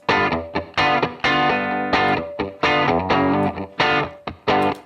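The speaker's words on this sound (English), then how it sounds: "I'm going to put this into the reverb, the room verb, and check out what this sounds like" Distorted electric guitar plays chopped, rhythmic chords with a roomy reverb tail, loud and close with no voices.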